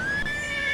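A horse whinnies in the Ratchet & Clank: A Crack in Time video game, a sustained, bright, wavering call heard up close over a soft background bed, with no talk.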